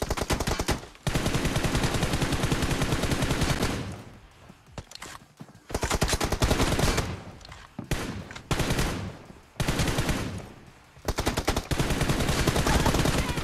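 Bursts of rapid automatic gunfire in a shooter video game, loud and close, coming in several long volleys broken by short pauses.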